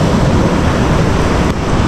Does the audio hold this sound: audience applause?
no